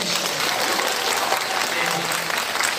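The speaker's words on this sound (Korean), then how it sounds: "우리 모두에게 박수 한번" Sustained audience applause from a seated crowd at an elder employment center job-training gathering in Incheon, dense steady clapping filling the room at a fairly constant level throughout.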